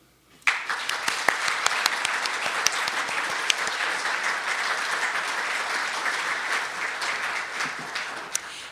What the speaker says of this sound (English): I would like to ask for a round of applause for Mary and Cheney Cowles